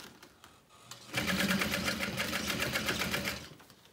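A sewing machine backstitches a handbag seam, starting after a second of quiet and then running in a steady, fast, loud mechanical chatter, close up and alone.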